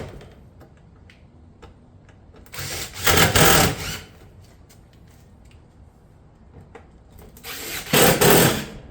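Fastener gun shots driving cottage-style roof shingles into a rake panel channel, two bursts of loud rapid mechanical clatter lasting about a second each, separated by quieter background with faint ticking.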